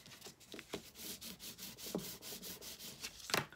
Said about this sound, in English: Just grab your bone folder and you're going to give it a rub along the spine there